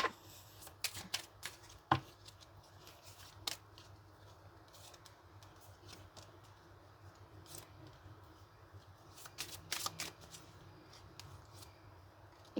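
Tarot cards shuffled by hand in scattered bursts of soft riffling and slapping, with a few sharper snaps near the start and again toward the end, fairly quiet throughout.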